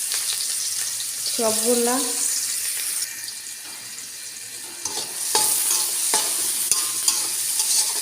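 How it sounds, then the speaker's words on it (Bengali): Onions being fried in a pan where rohu fish was fried, a steady sizzle with spatula stirring and scraping, sharp clanks of the utensil, and a short spoken remark early on. "এখন আমি পেঁয়াজগুলা দিয়ে দিব"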